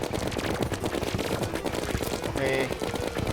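Rapid in-game gunfire from Terraria in Master Mode hard mode during a drawn-out boss fight, a dense, continuous stream of shots with game effects layered over it.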